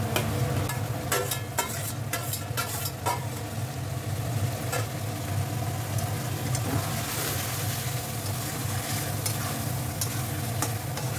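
Fried potatoes and pointed gourd being stirred into cooked-down masala and oil in a pan for a prawn curry, a steady loud sizzle with scraping stirs and utensil clicks early on.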